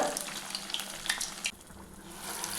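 Continuous crackling sizzle of sweet urad dal vada batter with jaggery frying in hot oil over a medium flame, heard up close; the bubbling softens and evens out partway through.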